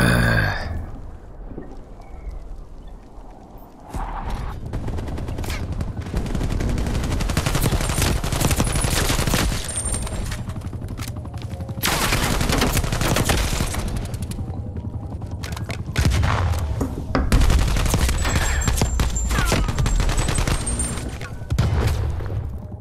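Rapid, sustained bursts of Milano 821 submachine gun fire crackle through a Black Ops multiplayer match, loud and close with short pauses between volleys and scattered game effects.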